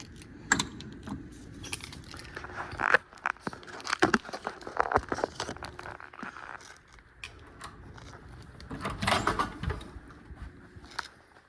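A hotel room door being opened at an old hotel in Bristol on the Virginia–Tennessee line, with keys jangling, clicks and handle rattles coming close and fairly loud over several seconds.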